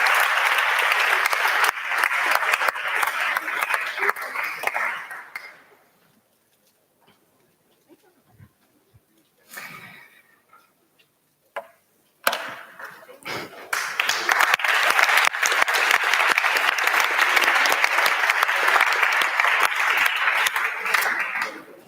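An audience at a startup competition final applauds the judges: a loud, dense burst of clapping fades out, a quieter pause follows with faint stray sounds, then strong applause swells again and holds to the end.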